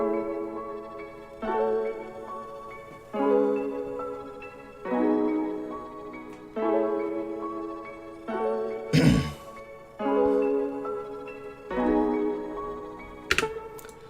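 Piano chords struck in a slow, even rhythm with a lush, processed sheen, punctuated by a couple of brief noisy swells.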